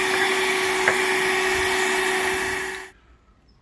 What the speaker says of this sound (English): So we have this 12-volt vacuum that we can plug into the van